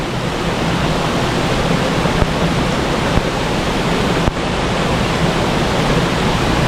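A forest stream in the rainy Kokan countryside, a loud, steady, broadband rush of flowing water filling the whole clip, close and unbroken.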